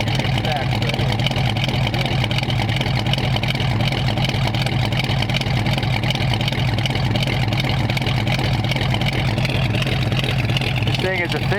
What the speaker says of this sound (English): this thing is officially a hot rod now. Dual exhaust, nice cam sound to it.